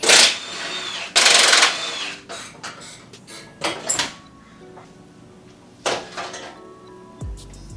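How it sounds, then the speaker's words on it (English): A wire brush scrubs a grimy part near the bumper bolts of an R32 Skyline during a bash bar install. Two loud, harsh scrubbing bursts come first, followed by softer scattered scrapes and knocks at close range. "I think I'm gonna wire brush this because look at that, it's nasty."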